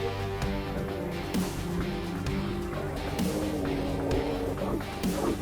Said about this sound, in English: their mechanical movements and operating sounds.